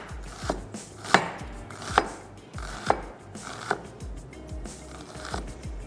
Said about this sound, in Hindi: और उसको कर लेते हैं चॉप।